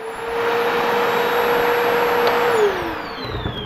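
A Milwaukee M18 FUEL cordless backpack vacuum runs on its low setting at a steady, moderate whine with a constant airy rush, then the pitch dips slightly as it begins to wind down.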